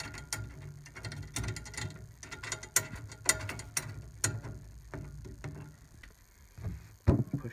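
Snare drum tension rod threaded into its lug casing and tightened, producing close, quiet clicking and ratcheting metal ticks in irregular bursts.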